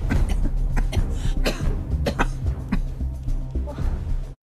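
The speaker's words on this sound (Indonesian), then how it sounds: "Mereka lebih detail mendengarkan seluruh keluarga Yusik batuk-batuk." Several coughs and throat-clearing sounds from a family sick with flu in a film scene, close and repeated in irregular bursts of hacking over roughly four seconds.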